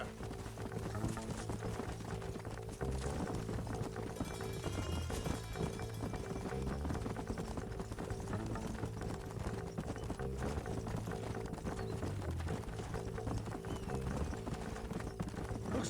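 Rapid hoofbeats of galloping horses in Red Dead Redemption pound steadily throughout, loud and close, with a brief whinny partway through and game music beneath.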